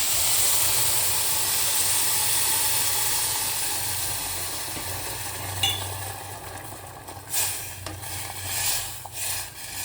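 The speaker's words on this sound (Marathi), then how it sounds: "आता आपण ते गरम पाणी टाकून घेऊया" Hot water poured into a pot of Khandeshi khichdi gives a steady broadband hiss and steam rush, with a few louder splashy bursts near the end and no voices.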